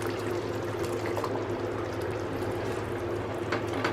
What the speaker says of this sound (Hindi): आधा कप गरम दूध डालेंगे।